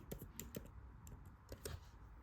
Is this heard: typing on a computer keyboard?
yes